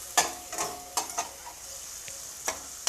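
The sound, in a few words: stirring kuzhambu masala powder in a pan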